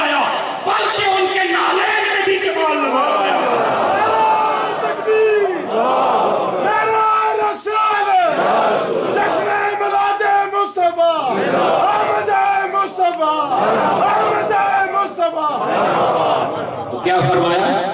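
A large crowd at a religious gathering roars Allahu Akbar in unison in answer to a takbir call, sustained loud massed voices in repeated surging waves with no pause.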